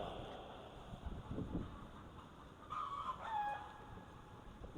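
Chickens cluck and a rooster crows faintly in the distance against a low, steady outdoor hiss, near a Karuppasamy temple in Puliyarai, Tenkasi district.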